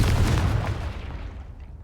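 Confringo fire spell exploding in Hogwarts Legacy, a single loud booming blast with a heavy low rumble that decays over about two seconds.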